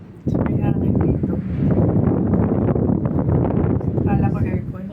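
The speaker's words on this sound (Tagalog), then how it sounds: "May hangin dito." Gusty wind buffets a handheld microphone outdoors on a trip in Hong Kong, a steady loud rumble with rustling bursts that runs through the whole stretch, while people talk over it.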